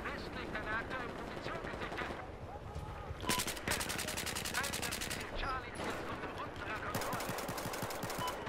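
Pistol gunfire in Battlefield 4 comes as fast, repeated cracking bursts amid other battle noise, loud and close, with people talking over it.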